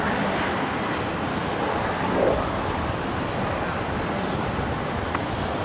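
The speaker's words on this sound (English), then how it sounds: "Qantas 620 dropping in there from Melbourne" A Qantas airliner arriving from Melbourne lands at Brisbane Airport, a steady broad roar of jet engine and airflow that holds for several seconds, swelling briefly near the middle, heard from a distance with no talk.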